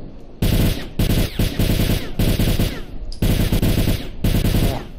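Bursts of automatic fire from an AKM-107 tactical assault rifle in the S.T.A.L.K.E.R. game, loud and close, coming in several sustained strings of rapid shots separated by brief pauses.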